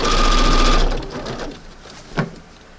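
Electric sewing machine stitching fabric for a porch redecorating project, a fast, close mechanical whir that runs about a second and then stops, followed by faint handling noises and a short click.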